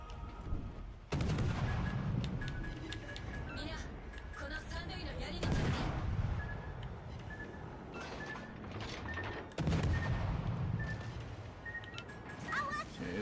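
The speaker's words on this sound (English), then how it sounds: "Cherborg shooting me." Naval gunfire from the French cruiser Cherbourg in World of Warships: Legends, heavy booming salvos landing in several loud bursts over a continuous battle rumble, with a player talking throughout.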